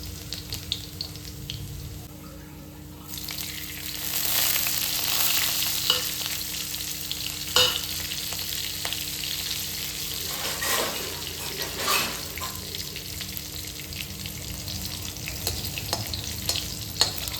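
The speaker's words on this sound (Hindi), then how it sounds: "तो अब लहसुन डाल लेंगे और उसके बाद फिर डालेंगे हरी मिर्च।" Crushed garlic and green chili fry in hot oil in a kadhai, making a loud, continuous crackling sizzle with occasional sharper pops and clinks from stirring throughout.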